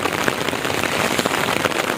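Heavy rain pours steadily at Haripur bridge in Sylhet, Bangladesh, a dense, unbroken hiss of drops striking surfaces up close, with no voices.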